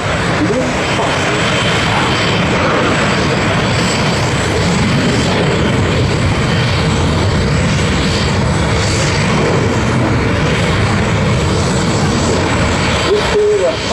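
A MiG-17F jet fighter flying a display at an air show, its loud, steady engine roar filling the air throughout with a broad rushing texture and no clear break.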